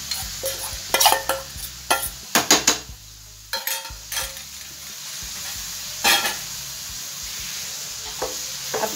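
Carrots being stirred in hot ghee in a pan on a high gas flame for carrot halwa: repeated scraping and clinking of a spoon against the pan in uneven bursts over a steady, soft sizzle, close and moderately loud.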